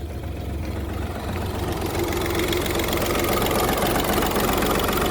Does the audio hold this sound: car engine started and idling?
yes